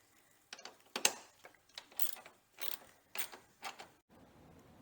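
A 10mm bolt being worked loose from the grille of a Ford Bronco, heard as a series of quiet, irregular mechanical clicks and ratchet-like ticks spaced over a few seconds, with no talking.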